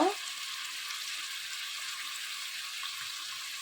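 Green chilies and onions frying in hot oil give a steady, dense sizzle that starts with a brief louder burst and then holds evenly close up throughout, with no talking.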